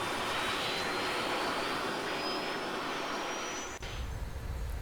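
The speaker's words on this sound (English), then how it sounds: "Turn on engines and whatnot." A jet engine in ARMA 3 roars in a steady, loud broadband rush with a thin rising whine, holding constant before a brief dip near the end.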